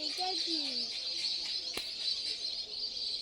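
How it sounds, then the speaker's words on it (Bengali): Ducks give a few short calls close by, partly under people talking, with a steady high hiss of insects or ambience running throughout. "দেখ বালি হাঁসগুলো, দেখ"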